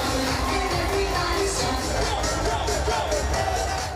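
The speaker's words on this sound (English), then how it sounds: "tens of thousands of fans were in high spirits within the main stadium of Kai Tak Sports Park" Tens of thousands of fans fill the main stadium of Kai Tak Sports Park, a loud, steady roar of crowd noise with chanting and cheering swelling throughout.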